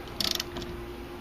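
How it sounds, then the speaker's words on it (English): A spanner wrench works a camshaft sprocket bolt on a Jeep 3.7 or 4.7 engine, giving a quick burst of five sharp metallic clicks like a ratchet, followed by a faint tick and quiet. "Now you hold the tool firmly, and now you can simply tighten or loosen that bolt."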